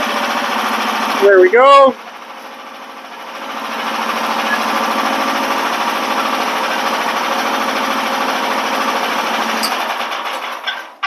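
Engine of a 2025 SD Lanch SL1200J mud buggy being throttled down, a short rising rev that settles into a steady, buzzing idle, close by, with a brief spoken remark near the start.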